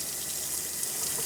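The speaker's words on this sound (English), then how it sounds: "I'm going to run it under the water and try to get these seeds out of this little middle" Tap water runs steadily under a faucet as seeds are rinsed from the soft middle of a garden vegetable, a loud, continuous hiss with no pauses.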